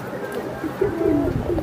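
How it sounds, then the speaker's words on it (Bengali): A Rabbani-style female pigeon coos in soft, low, rolling phrases, close by, with a light background murmur around it. "রাব্বানি স্টাইলের একটা মাদি কবুতর"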